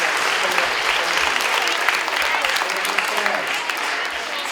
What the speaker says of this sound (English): let's have one last round of applause for all you great kids